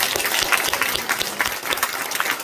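Brief burst of audience applause at a church gathering, a scattered crowd of hands clapping steadily and fairly close, with no talk over it.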